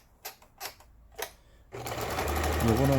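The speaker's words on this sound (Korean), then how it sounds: "이제 옷에 주머니를 달 때 사용되는 박음질입니다" Lion Hi9500 household sewing machine sewing a special decorative pattern stitch, a fast rhythmic mechanical whirring that starts abruptly after some brief clicks and handling, close and loud, with someone talking over part of it.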